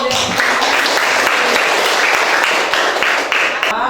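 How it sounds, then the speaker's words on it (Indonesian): Applause from students in a classroom after group presentations, a dense continuous burst of many hands clapping close by for about four seconds. "kita aplaus dulu"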